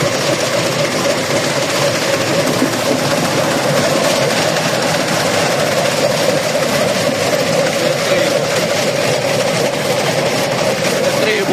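A pumpkin combine harvester with a pickup runs with a steady, loud mechanical roar and droning hum, constant and close throughout.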